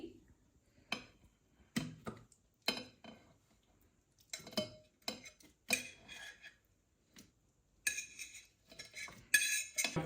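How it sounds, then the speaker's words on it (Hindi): Raw chicken pieces are dropped into a kitchen chopper machine, making a series of irregular clinks and clatters of hard containers and utensils, some soft and some sharp, close by in a quiet kitchen. "अब मैं तमाम पीसेस जो चिकन के मैंने तैयार किए हैं, अब मैं इन्हें चॉपर मशीन में डाल दूंगी।"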